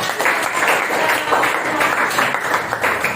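Classroom applause from students during a geography lesson, a steady dense patter of many hands clapping together for about three seconds without a break, fairly loud and even throughout.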